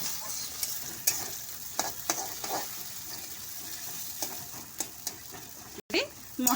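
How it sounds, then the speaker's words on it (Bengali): Minced chicken frying with spices for a pointed gourd chicken dolma makes a soft, continuous sizzle, broken by repeated sharp scraping strokes of a spatula stirring the pan. "এটা একটু নাড়াচাড়া করে আমি মশলাগুলো দিচ্ছি এক এক করে।"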